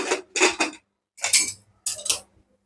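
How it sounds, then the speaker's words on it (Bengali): A metal lid set onto a cooking pot of khichuri, several sharp clinks and clatters in three quick groups with brief silences between, close and clear. "ঢাকনাটা আটকাই দেই"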